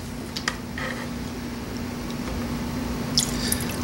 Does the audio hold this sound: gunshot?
no